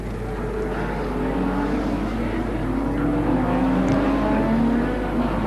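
A 1991 Nissan GT-R racing around the Wellington street circuit during the Nissan Mobil 500, its engine a steady, loud drone with shifting harmonic tones as it passes, heard continuously without any voices.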